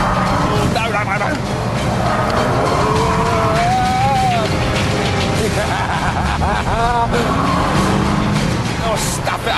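A Nissan 350Z and a BMW Z4 racing on track, engines droning continuously with rising and falling pitch as they brake and accelerate, tyres squealing in places, heard under a driver's running talk.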